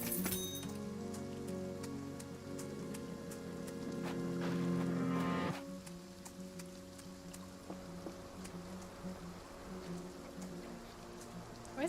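Steady rain patters on a surface outdoors, a dense soft hiss with scattered drop ticks and a faint insect buzz, louder in the first half before easing slightly.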